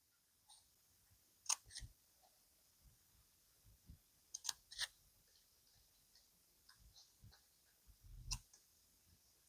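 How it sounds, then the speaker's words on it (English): Scattered crisp snips and rustles of scissors cutting paper, close and quiet, in irregular bursts with short pauses between cuts. "take our scissors"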